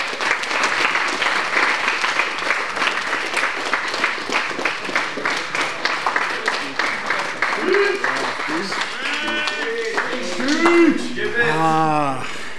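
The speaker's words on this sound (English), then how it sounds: "let's just all give him a round of applause" A crowd applauds an award joke among a grappling and jiu-jitsu crew, steady dense clapping that carries on for several seconds, then thins as voices and cheers rise near the end.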